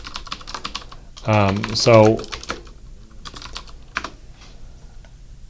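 Computer keyboard typing into an electronic health record note, with scattered quick keystrokes throughout and a brief spoken word in the middle.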